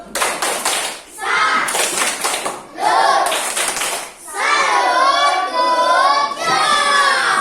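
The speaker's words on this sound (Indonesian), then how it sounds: "Mari kita beri semangat diri kita dengan bersama-sama tepuk salut" A school class performs a rhythmic group clapping routine, bursts of hand claps alternating with children chanting together in bright, close, loud segments.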